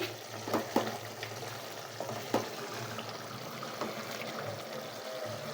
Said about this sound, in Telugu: చికెన్ ముక్కలకి కారం పట్టేలాగా బాగా మంచిగా ఉడికించుకోవాలండి